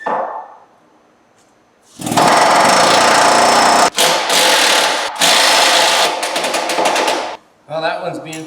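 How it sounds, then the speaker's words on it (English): A pneumatic air hammer pounds on a stubborn, penetrant-soaked pin bolt of a wrecker body, a loud, close, continuous rattling burst of about five seconds with two brief pauses, ending as a voice starts speaking. "I give her some love on the air hammer on the bottom and on the top"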